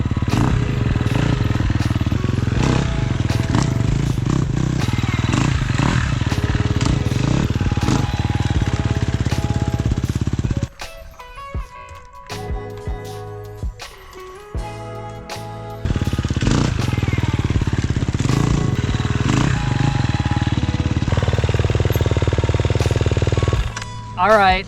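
KTM XC-F dirt bike engine revving and blipping as it rolls over a log on a trail, loud bursts with a quieter idling stretch in the middle before the engine picks up again.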